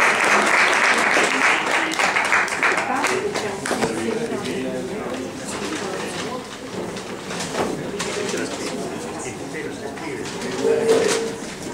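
Audience applause at a convention in Ancona, a broad wash of clapping that gradually thins out while people talk over it.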